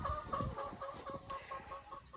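Mardi village chickens cluck repeatedly in a coop, a steady run of close, overlapping clucks with no voices.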